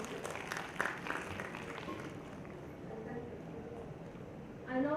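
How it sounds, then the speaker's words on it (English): Audience applause at a medical conference, a soft, diffuse wash of clapping heard from a distance, fading down with some voices before a brief louder swell at the end. "A huge round of applause to these two."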